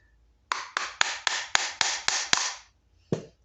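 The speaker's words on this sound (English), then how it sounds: "Alright, got my rubber mallet. Give it a couple whacks." A rubber mallet strikes a car distributor, eight quick, evenly spaced close thuds, then a short pause and one final whack.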